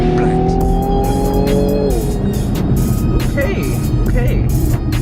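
A 2019 Infiniti Q60S Red Sport brakes hard from speed, engine note dropping as it slows, with tire and road rumble and a brief squeal, while people speak over it.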